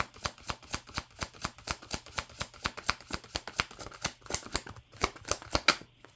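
Tarot cards being shuffled in a steady run of crisp, rapid riffles and slaps, about thirty sharp clicks over six seconds, close and clear with no talking.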